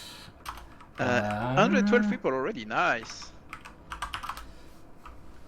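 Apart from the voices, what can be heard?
typing on computer keyboard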